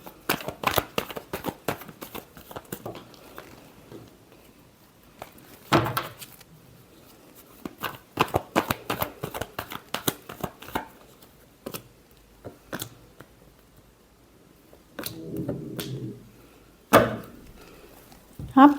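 A deck of tarot cards is shuffled in bursts of crisp, rapid riffling clicks, close by, broken up by quiet gaps and a few soft taps.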